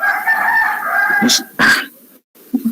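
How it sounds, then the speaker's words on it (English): A rooster crows close by in a drawn-out call, followed by short clucks and squawks, with a brief silence near the end. "What kind of chicken is this? Let me locate that chicken."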